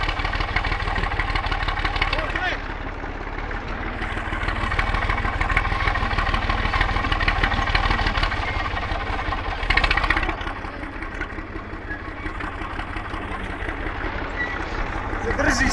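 An IMT 539 tractor engine revs loudly and steadily at close range with a rough, throbbing tone, with people talking over it throughout.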